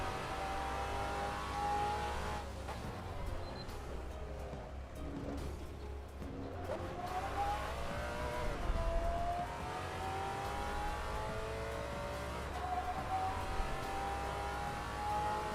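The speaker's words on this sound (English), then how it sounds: "This is a Maserati, not a Porsche." A Maserati race car engine in Assetto Corsa, revving up and down through gear changes with rising and falling whine, steady and close, with no talking.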